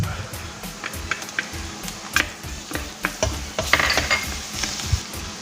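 Garlic is stirred in a hot pan, a soft sizzle under steady scraping and clinking of a utensil against the metal in an irregular rhythm.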